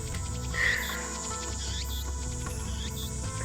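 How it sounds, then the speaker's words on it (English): Cicadas chirping on a hot evening in the video game Steins;Gate, a constant buzzing insect drone with repeated chirps over a steady background hum, heard alone without talk. "These cicadas are so loud."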